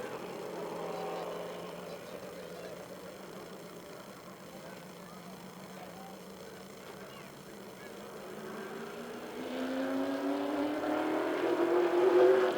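Number 57 race car engine at Lebanon I-44 Speedway during a race night, a droning motor that rises in pitch and grows louder toward the end, heard over a broad murmur of background noise.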